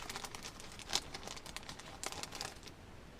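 Small plastic bag of cheap stickers from a 1/14 RC Jeep kit being handled, giving faint, close crinkles and a few sharper rustling crackles in quiet surroundings.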